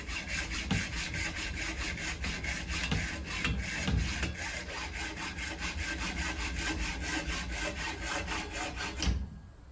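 Rapid back-and-forth rasp of a hand saw cutting through deer antler to make a button, close and continuous with a steady stroke rhythm, ending abruptly as the cut finishes.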